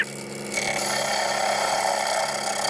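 Wood spinning on a lathe aboard a catamaran, a loud, dense whirring hiss of the cutting tool biting into the turning piece, steady and continuous after a brief softer start, with no talking.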